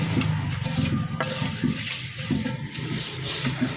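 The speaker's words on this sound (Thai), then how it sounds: "นี่เรากำลังจะล้างเราก็เดี๋ยวจะมาทำสปาเท้ากันนะคะ เป็นอ่างที่ขายอยู่ในร้านนะคะ ก็ล้างเอาเศษฝุ่นออกนะคะ" Dust is washed off a 16-inch terracotta basin with a continuous close rubbing and scrubbing under running water, steady and fairly soft, with no one talking.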